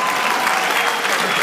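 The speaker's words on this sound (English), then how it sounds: "Clap up for a guy like me paying debt." Audience applause at an opening speech, a dense, steady wash of clapping filling the whole moment at close, even loudness with no talk over it.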